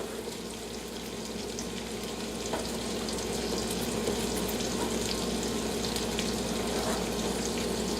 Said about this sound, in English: let this hang out at kind of a low heat and sweat the onions and celery